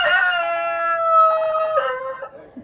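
Roosters crow loudly nearby outdoors, one long drawn-out cock-a-doodle-doo call with a second voice overlapping near its end before fading.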